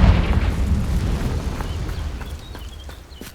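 A Confringo blasting spell goes off in Hogwarts Legacy, a heavy rumbling boom that starts loud and slowly decays over a few seconds, with faint crackles and small pops trailing behind.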